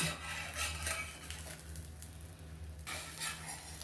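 Bread omelette sandwich frying in a pan and being turned over, a soft steady sizzle with scraping and rubbing of a spatula, close and quiet, with a brief lull in the middle.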